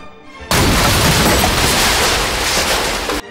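An explosion sound effect from an action film scene: a sudden, loud broadband blast that bursts in after a brief quiet lead-in, roars steadily for nearly three seconds and then cuts off abruptly.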